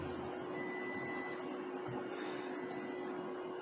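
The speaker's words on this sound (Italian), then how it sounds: "è il rumore della stampante 3D che sta lavorando a questo progetto" A 3D printer works through a print job in a quiet room, giving a faint, continuous mechanical whir with a steady electronic hum underneath, unbroken throughout and with no talking.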